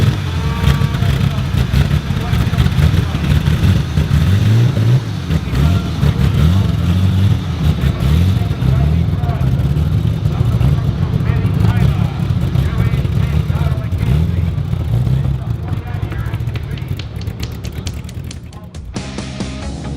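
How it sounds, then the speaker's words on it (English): A stock car engine roars loudly and steadily at a speedway during the first race night of the season, its throaty low rumble holding almost constant before easing slightly near the end. "Also to hear the glorious sound of a stock car engine."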